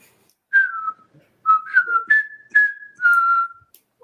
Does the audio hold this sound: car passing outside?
no